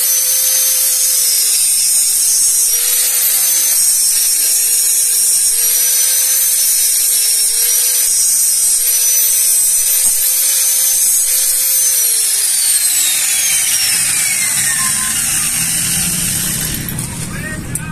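A power tool cuts through a motorcycle fender up close, a steady high whine with a wavering pitch that keeps on, then winds down near the end.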